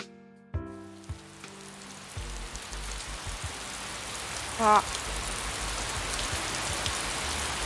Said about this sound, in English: Rain began to patter down around me. Before long, it turned into a constant downpour.